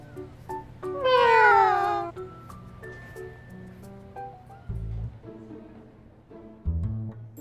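A cat lets out a loud, drawn-out meow, followed by a few quieter, shorter mews and soft shuffling sounds in a calm setting.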